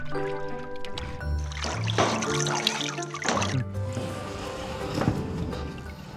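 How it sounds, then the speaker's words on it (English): Water runs and trickles steadily while fresh persimmons are rinsed, a soft continuous splashing with small knocks from the fruit. "After rinsing through water, they are ready to be processed."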